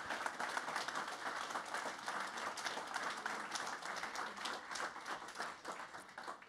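An audience at a network operators' tech meetup applauds a group of presenters, with sustained, fairly faint clapping from a modest crowd, evenly spread throughout.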